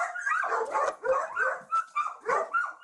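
A big dog barks repeatedly in a steady rhythm, about six loud, close woofs with short gaps between them.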